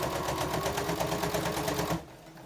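A sewing machine stitches bias tape onto a quilted placemat with a steady, fast, loud mechanical whir and pulsing needle rhythm, then stops abruptly near the end.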